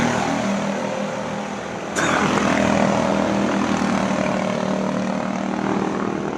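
Go-kart engines racing on a karting track at Bandaragama, a loud continuous buzzing drone that jumps in level as karts pass close by, with no talking.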